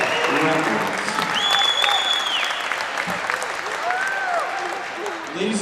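Steady crowd applause fills a high school boys basketball game gym for senior wrestlers, cheerleaders and players, dense clapping with a few whistles and cheers rising and falling, loud and continuous throughout.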